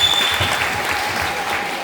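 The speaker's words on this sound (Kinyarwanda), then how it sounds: "Dukomere Yesu wacu amashyi" A church congregation bursts into loud, sustained applause, many hands clapping together in a dense, even wash close by.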